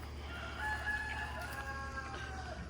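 Chickens and a rooster in a backyard garden coop crow and cluck continuously, several overlapping calls at moderate distance over a steady low hum, with no talking.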